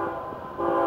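Horn on an FEC locomotive blowing a steady, loud chord of stacked tones, holding throughout and swelling slightly louder near the end.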